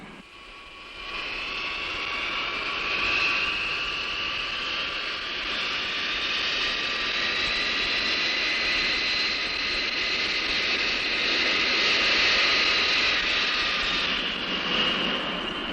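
A cargo aircraft at a large airport roars with a steady, loud jet-engine drone and high whine, sustained and slowly swelling for about fifteen seconds without talk.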